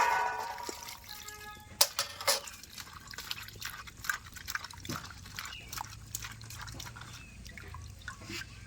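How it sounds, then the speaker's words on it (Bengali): Cut cauliflower florets being washed in water, with sloshing, dripping and splashing, interspersed with clattering knocks of the pieces, close and fairly quiet, no speech. "ফুলকপি আমি কেটে নিয়েছি। এখন আমি ভালো করে ধুয়ে নেব।"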